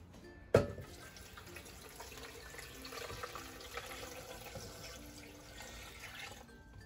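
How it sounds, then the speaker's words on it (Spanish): Water pours into a blender jar holding chopped cucumber for a cucumber and lime drink, a steady splashing stream after a brief knock at the start. "Vamos a ponerle aquí agüita."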